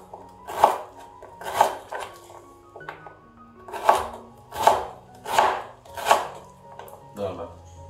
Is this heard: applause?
no